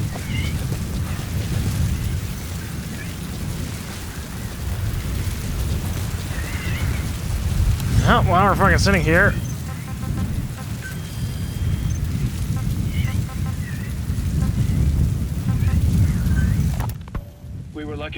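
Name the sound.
rain and thunderstorm in video game Metal Gear Solid 5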